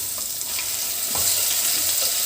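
Shrimp and onions fry in a pan under a constant loud sizzle, with soft stirring scrapes now and then and no voices.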